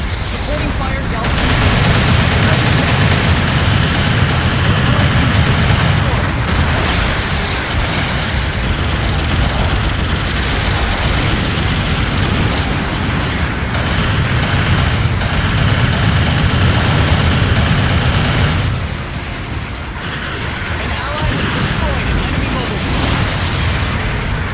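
Long-range supporting fire in the GBO2 video game on a mountain map, with dense rolling gunfire and heavy explosions, loud and nearly continuous, under occasional game voice callouts and radio-style announcements.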